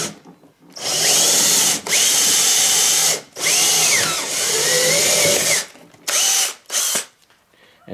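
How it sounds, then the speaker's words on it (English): A power drill with a 1 1/4 inch hole saw cuts into a plastic bucket lid, loud whining bursts of grinding that stop and restart several times, with short pauses between runs. "we're using a 1 1/4 inch hole saw"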